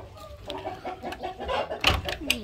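A black rooster clucks and gives short calls repeatedly through the clip, with a few louder squawks near the end, over soft background noise.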